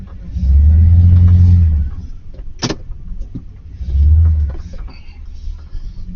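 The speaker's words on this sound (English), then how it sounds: "He just pulled in with my other truck." A truck pulls in at a mechanic shop during a winter storm, its engine giving two loud, close, low rumbling surges a few seconds apart over a steady background hum.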